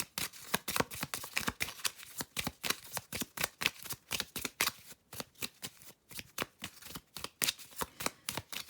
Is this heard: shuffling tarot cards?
yes